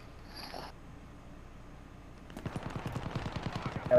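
Automatic gunfire erupts in Call of Duty Warzone, a rapid burst of loud close shots in quick rhythm after a quieter stretch of faint game ambience.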